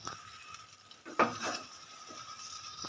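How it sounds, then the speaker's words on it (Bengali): Fish-head muri ghonto stirred in a pan over a medium gas flame: a soft sizzle under one sharp clatter of a spoon against the pan and a brief scraping stir, close by, with no talk. "একটু নেড়ে দেব।"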